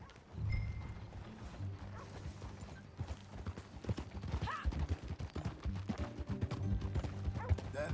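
Horse hooves clip-clop in a steady rhythm in a Red Dead Redemption 2 ride, close and fairly loud under a layer of music and game sound, with a brief voice early on.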